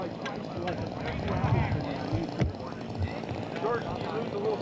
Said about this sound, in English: Very Gray with his Piper Cub from Newburgh.